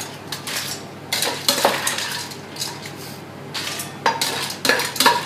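Cooked mussels being scooped into a salad bowl: close clattering shell clinks and utensil scrapes in irregular bursts, with brief quiet gaps between.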